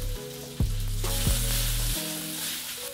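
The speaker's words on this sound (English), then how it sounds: "You hear that sizzle sound?" Food fries in a pan for a vegan noodle dish, giving a steady close sizzle with a few brief knocks and some faint tonal sound underneath.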